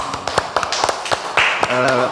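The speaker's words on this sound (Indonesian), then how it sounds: "saya izin Pak Bupati tepuk tangan" Sharp hand claps from a few people in a podcast studio during a regional leaders' dialogue, a short irregular burst, close and loud, with talk and a brief tone running underneath.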